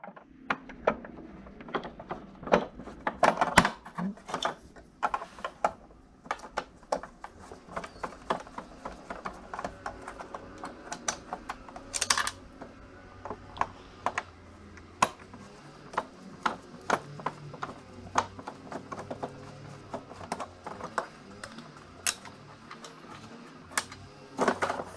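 A screwdriver works the screws out of the base of a Dyson upright vacuum: quiet, close ratcheting clicks and small plastic taps in irregular bursts, with no talk.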